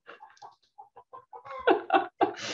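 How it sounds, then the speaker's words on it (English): Backyard chickens kept by neighbours in downtown Bozeman, Montana, cluck in a run of short, loud, choppy bursts, growing louder toward the end, with no talk over them. "can you hear those chickens?"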